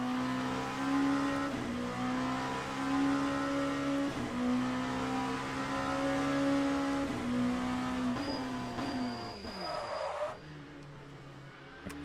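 A race car in the Le Mans Ultimate sim game locks its wheels under braking. A steady, loud engine tone shifts and drops as the tyres briefly squeal near the end.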